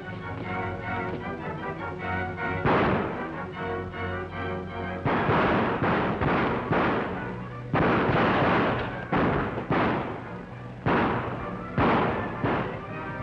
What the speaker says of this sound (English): What are you firing at?